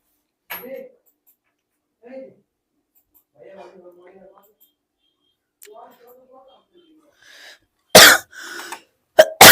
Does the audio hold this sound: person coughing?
yes